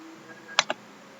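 Two quick, close keystrokes on a computer keyboard press a Ctrl+C copy shortcut as a crisp double tap over quiet room tone.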